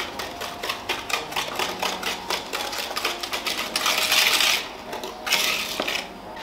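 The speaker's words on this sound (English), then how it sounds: "I'm just going to whisk my eggs and sugar." Eggs and sugar being whisked in a bowl for lemon squares, a fast steady rattling of metal against the bowl that grows louder and more intense toward the end, close up with no talk.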